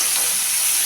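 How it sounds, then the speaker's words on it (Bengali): Chopped onion frying in oil in a pan for green egg curry, heard as a brief continuous close sizzle with light stirring. "পেঁয়াজটা একটু নাড়াচাড়া করে নিলাম।"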